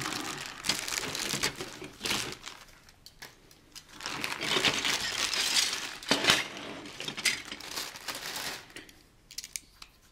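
Crinkling and rustling of a plastic bag holding parts from a Polar Lights 5052 Kiss Peter Criss Catman model kit, close and fairly quiet, continuous handling with brief pauses.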